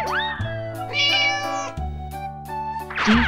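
A cat meows twice, a rising cartoonish cry at the start and another near the end, over a bright, steady children's song backing track.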